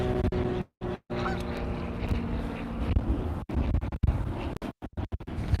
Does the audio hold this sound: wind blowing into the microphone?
yes